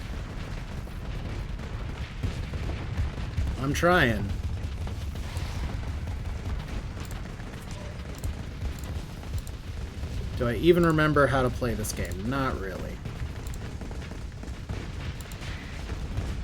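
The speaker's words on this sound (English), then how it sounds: "I see explosions." Space combat in Starsector brings muffled explosions and bursts of gunfire, a dull steady rumble with sharper blasts, while a person talks over it.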